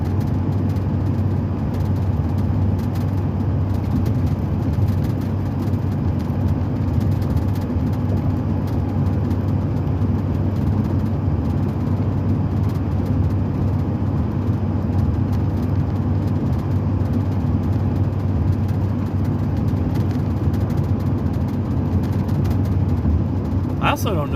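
Steady low engine drone and road rumble inside a moving car, with a faint air-conditioning hiss on very low, continuous and even throughout with no talking.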